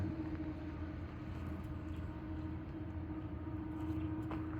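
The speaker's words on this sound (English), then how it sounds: "here's the roll-by of the Loram rail grinder 309" Loram rail grinder 309 rolls past on the rails, apparently deadheading with its grinders idle: a steady low rumble and hum from a moderate distance with faint rattling and no talk.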